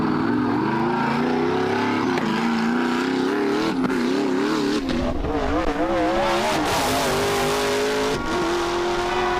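A car engine revs hard and continuously, its pitch climbing and dipping over several throttle blips. The loud, close roar runs throughout, with no speech.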